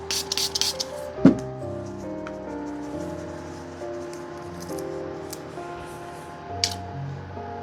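A setting spray is misted onto a makeup brush in a few quick, close hissing spritzes, followed by quiet handling clicks and rustles.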